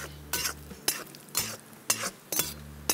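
Cashews fry in ghee in a pan with a soft, steady sizzle, and a metal spoon scrapes and clinks through them in regular strokes about every half second.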